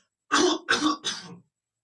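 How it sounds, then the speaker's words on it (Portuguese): Three quick, harsh coughs in a row, close up, followed by silence. "Eu tossi aqui."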